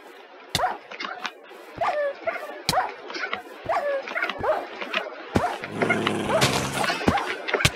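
A dog in a video game barks and yips in quick, repeated bursts, loud and close, with sharp clicks between them and a brief louder burst of game noise near the end.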